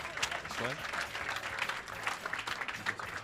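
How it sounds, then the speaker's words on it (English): A crowd at a business accelerator demo day applauds steadily, with clapping filling the background while a voice talks over it. "let's give them all another round of applause"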